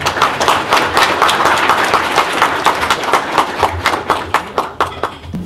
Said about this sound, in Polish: Brawa za odwagę.